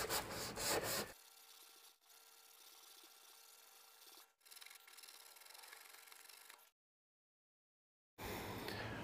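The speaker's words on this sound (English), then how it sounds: "let's block this body filler with this small block and some 80 grit" A small hand block with 80 grit sandpaper rubs over body filler in a car dent repair, making a quiet, steady rasping scrape that runs for several seconds, then stops briefly before a louder burst at the end.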